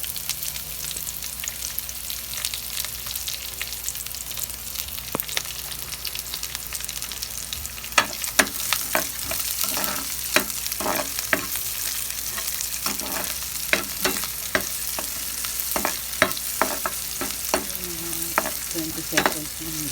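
Onion sautéing in a pan after garlic for mung bean stew, a continuous sizzle with a run of sharp, irregular scraping strokes of the spoon that grow busier midway, close and without speech.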